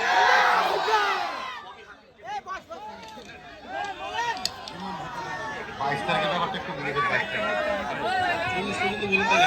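A large crowd at a gathering shouts back in unison in response to a takbir call. The roar of voices is loud and surging, with chatter mixed in.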